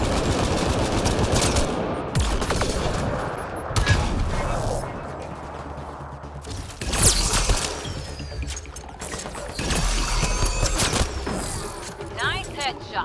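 Gunfire from a firefight in Mass Effect Andromeda: bursts of automatic shots and single cracks come in clusters amid game effects, with voices talking in between.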